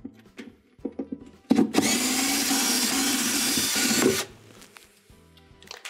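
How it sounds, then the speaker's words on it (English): A power driver whirs for about two and a half seconds, loosening a Phillips screw from the basket hub of a Whirlpool washer, with small clicks and handling knocks before and after. "we're gonna begin removing the 6 Phillips style screws from the hub."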